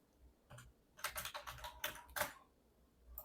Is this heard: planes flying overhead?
no